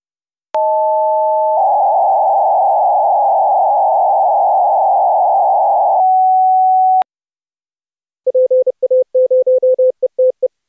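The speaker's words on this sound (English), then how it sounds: "Our Morse characters for today are Echo, Lima, Oscar, Romeo." Pure sine-wave tones come first: a steady two-pitch tone, a long buzzing band, then a single held note. After a short silence, a rapid train of clean Morse code beeps follows, loud and close, spelling out characters in quick on-off pulses.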